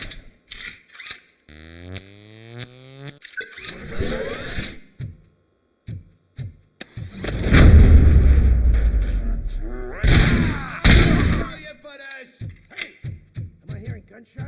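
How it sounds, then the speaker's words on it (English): Sharp bursts of gunfire and heavy thuds mixed with mechanical clanks and electronic tones, with a loud rumbling stretch in the middle, in a busy soundtrack from the video game RoboCop: Rogue City. "Am I hearing gunshots?"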